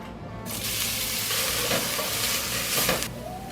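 Onion hits hot avocado oil in a pan, bursting into a loud, broad sizzle that holds steady for a few seconds, close by and without speech.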